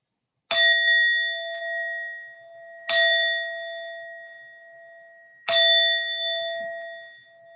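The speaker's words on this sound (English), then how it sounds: "I'm going to ring a bell 3 times" A meditation bell struck three times at a slow, even pace, each clear ringing tone decaying gradually before the next strike, with no voices.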